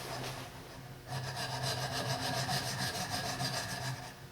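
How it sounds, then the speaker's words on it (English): A hoof knife is stroked flat against a diamond sharpening stick, producing a steady, close, rasping scrape with rhythmic back-and-forth strokes that intensify after a brief lighter start. "I place my knife flat against"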